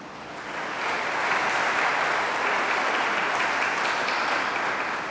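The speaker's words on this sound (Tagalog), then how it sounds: "Palakpak nga yung mga may hinihinging blessing." A church congregation at a Simbang Gabi dawn Mass breaks into sustained applause that swells within the first second and holds as a dense, steady roar filling the hall.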